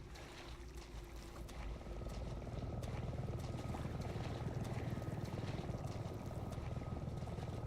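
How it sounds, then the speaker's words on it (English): Helicopter in the video game Resident Evil 7, a steady low rotor drone that swells slightly louder after the first couple of seconds and holds continuously, blended with wind and water-like rumble. "Helicopters."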